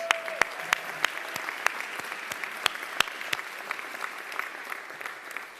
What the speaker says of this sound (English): Let's give that man a round of applause